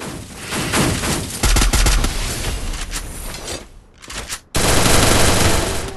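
Dense gunfire in the battle royale game Free Fire, with sustained rapid bursts and heavy shots filling nearly the whole stretch, broken by a brief quiet gap before another loud burst, with no talk over it.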